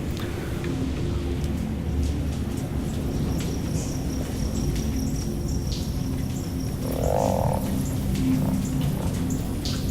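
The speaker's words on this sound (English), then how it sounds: "This frog-infested tunnel." Frogs croaking in a tunnel in Antichamber, a steady dense low chorus filling the space, with a faint brighter call partway through.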